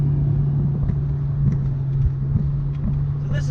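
Steady low engine drone and road rumble from inside a Toyota Celsior (Lexus LS400, UCF20 VVTi) as it is driven on mismatched spare wheels, loud and continuous, with faint ticks over it.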